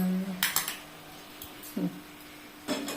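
A spoon stirs a carrot naru mixture of grated carrot in a pan, giving a few separate scraping, clinking strokes against the metal at a quiet, close level, with a short voiced sound near the start.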